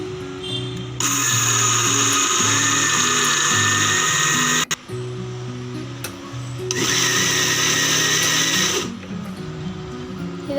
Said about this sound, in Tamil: அப்புறமா இதை வந்து அரைச்சி எடுத்துடலாம்